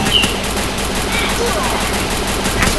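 Rapid machine gun fire in a shooting video game rattles on continuously and loudly, with a player's voice mixed in.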